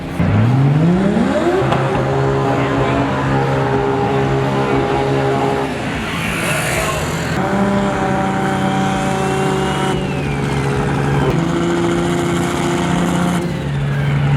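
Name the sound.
2JZ drag race car engine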